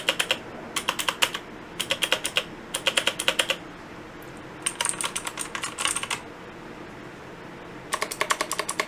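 Keys on a Redragon K552 87-key mechanical keyboard clatter in rapid bursts of sharp, close clicks, with short pauses between runs and no speech.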